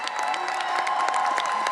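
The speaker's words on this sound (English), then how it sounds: "a well-deserved round of applause" Applause from a commencement audience for college staff, a steady dense wash of clapping with some crowd noise, fairly loud and continuous throughout.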